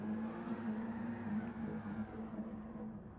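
Race car engine held at high revs against the handbrake in a tyre-burning attempt at a 24-hour event, a steady loud droning roar with a slight wavering pitch throughout.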